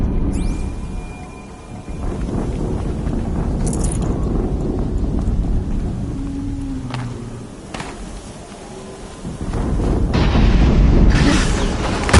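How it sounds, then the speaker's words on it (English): Explosions in the video game Horizon Zero Dawn, a rolling series of deep booms and rumbles that swell and fade over the whole stretch, loud and with no talk over them. "Another explosion."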